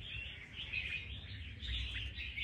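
A red-whiskered bulbul (chào mào) trap-caught fighting bird from Lạng Sơn sings in a run of bright, close chirps and warbled phrases, fairly soft and continuous with no talking.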